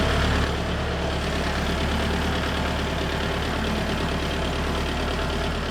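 A tractor engine, larger than a Kubota L4801 compact tractor, idles loud and close in a steady, even diesel rumble that never changes, with no talking.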